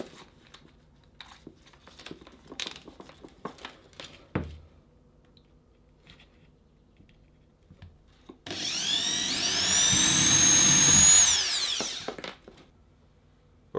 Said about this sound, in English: Now the bar sits right about here, so I will drill a pretty big hole